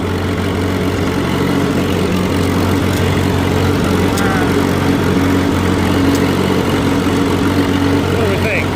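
A riding lawn mower engine runs with the mower deck engaged and the machine out of gear, a loud continuous droning hum with steady low tones and no pauses.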